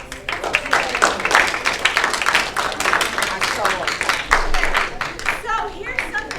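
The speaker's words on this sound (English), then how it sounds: "Let's give a big round of applause." A room audience gives a big round of applause for a family tied to military service, with dense, steady clapping at close range that tapers slightly toward the end.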